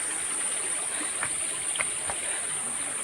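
Water flows in a stream at Asheri fort, a steady, moderately quiet rushing wash with a few brief splashy accents and no voices.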